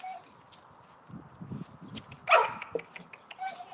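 A chained dog barks outdoors behind a fence, a few sharp barks from a short distance that stand out against a quiet background.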